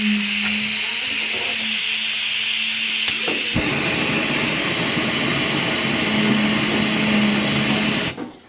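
A Jetboil camping stove burner running outdoors, a loud steady roaring hiss that holds for several seconds and then cuts off abruptly at the end.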